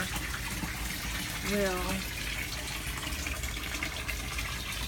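A 1000-gallon garden pond's waterfall and refill flow pour steadily in a broad wash of rushing water, with a voice briefly talking over it.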